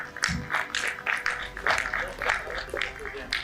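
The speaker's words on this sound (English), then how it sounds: "A huge round of applause, please" An audience at the Uttarakhand Good Governance Awards ceremony gives a round of applause. The clapping comes in rhythmic, evenly spaced bursts at a moderate distance, blended with speech in the hall.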